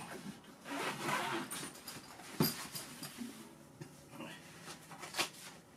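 A large zipper being pulled along a guitar gig bag compartment, with rustling and handling noises throughout.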